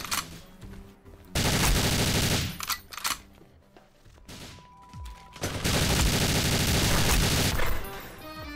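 GoldenEye Source multiplayer gunfire: two long, loud bursts of rapid automatic shots, separated by a quieter stretch of scattered single shots and game sounds.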